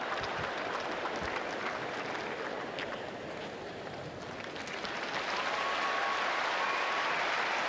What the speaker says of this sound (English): Certainly the most applause he's got.